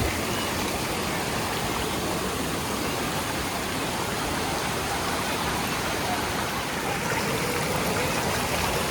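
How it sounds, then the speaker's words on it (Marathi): Dhangar Waterfall near Badlapur and its stream, a loud, unbroken broadband rush of falling and flowing water that stays steady throughout, with no voices. "पहिल्या मार्गाने गेल्यावरती वरून कोसळणारा हा धबधबा तसा दूरच आहे."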